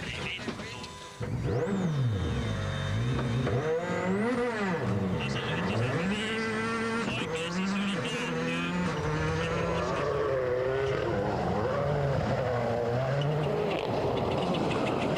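A Skoda Fabia rally car on a Rally GB stage during the 2004 WRC, its engine revving hard through repeated gear changes with rising and falling pitch, loud and close, while a commentator talks over it.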